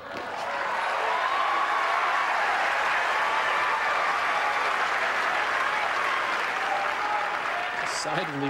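Tennis spectators applaud steadily at an Agassi–Federer Masters Cup round-robin match in Houston, a dense, sustained clapping that swells quickly and holds throughout before tapering slightly at the end.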